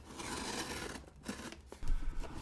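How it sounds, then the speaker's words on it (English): Short scraping and rasping of a blade slicing through the tape of a sealed cardboard box, close and fairly quiet, with a few rubbing and tearing noises. "let's cut that open"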